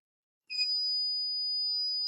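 Buzzer of a water level indicator circuit, a steady high-pitched electronic tone that starts abruptly and holds continuously to the end, clear and alone.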